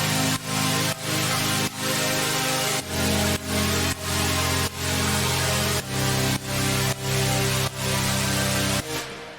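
A second set of synth chords from a heavy melodic dubstep production in Ableton, thick and loud, with sustained chords changing every couple of seconds over regular pumping beats, no speech.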